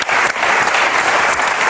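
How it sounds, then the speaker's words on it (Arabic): A Ramadan comedy TV show's studio audience claps in a dense, even burst of applause that fills the whole short moment. "تصفيق على لبنى برافو لبنوش برافو"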